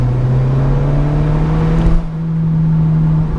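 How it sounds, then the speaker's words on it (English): Alfa Romeo 4C Spider with its 1.75-litre turbo engine mounted right behind the cabin, loud and close, holding a steady droning rev, then a brief dip with a fluttering turbo whoosh before the engine note resumes. "And the turbo flutter that you hear right behind your ears is absolutely incredible."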